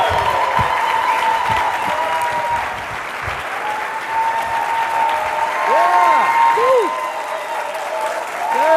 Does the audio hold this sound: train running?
no